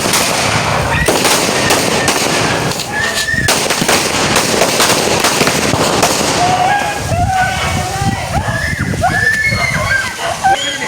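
Sharp firecracker bangs crackle through a noisy crowd at a midnight birthday celebration, with people talking and shouting over the bursts.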